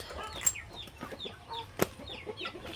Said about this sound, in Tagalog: i-check natin yung manok ni Mahal dito